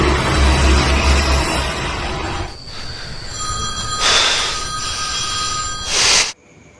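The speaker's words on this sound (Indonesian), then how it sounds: "si Galang yang baru terbangun pun mencoba menghampiri di mana HP-nya berdering" A phone rings in repeated bright electronic bursts over a rumbling, noisy background, each ring trill standing out clearly before the sound cuts off abruptly.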